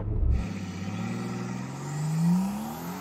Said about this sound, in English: I'm going to brake boost it and launch it.